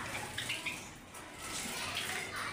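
A Java sparrow bathes in a small water dish, its wings splashing and fluttering in soft close bursts over a faint watery background.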